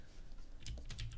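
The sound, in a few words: typing on a computer keyboard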